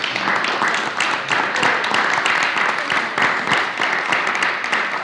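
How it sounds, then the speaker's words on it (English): A room of people at a school board of education meeting gives a round of applause, steady and fairly close clapping that swells and dips slightly across a few seconds. "Can we do a round of applause?"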